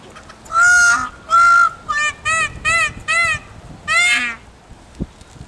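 A peacock gives a series of loud, honking calls close by, seven nasal blasts in quick succession with short gaps between them, followed by quiet.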